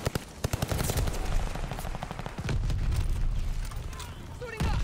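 Grease Gun submachine gun in the shooter game Vanguard firing rapid bursts of close, loud automatic gunfire with sharp repeated cracks and rumbling low booms, a few separate shots followed by sustained sprays.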